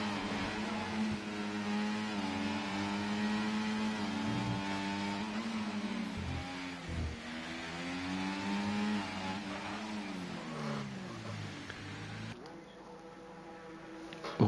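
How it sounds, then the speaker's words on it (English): F1 cars in the F1 24 video game return to the pits at Monaco, with several engines humming and whirring at varied pitch, rising and falling as they pass, moderately loud and continuous. "All the cars returning to the pits"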